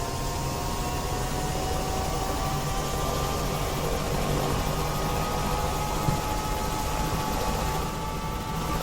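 Steady helicopter engine drone with a faint whine in the X-Plane 12 flight simulator, continuous and even throughout, heard from inside the cabin.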